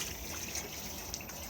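Water running from an opened tap in a Bailey Unicorn Cartagena caravan, fed by the internal pump from the internal tank, a steady hissing flow with faint splashes, even and close.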